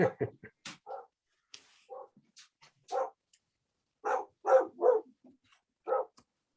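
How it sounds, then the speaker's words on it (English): A dog barks in scattered bursts, faint and distant, some barks coming in quick pairs and triplets, heard over a quiet room during a council meeting. "Hey, Chuck, it's my dog"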